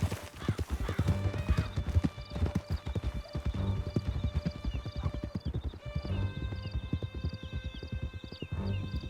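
Horse galloping in Red Dead Redemption 2 on a canyon ride, with steady rapid hoofbeats, a whinny and a game music score layered over it throughout, no talk.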